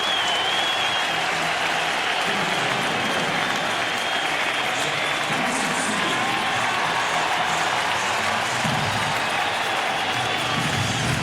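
A packed World Series stadium crowd of 2005 roars and applauds steadily as a batter walks in with bases loaded, a dense continuous cheer filling the whole stretch without letup.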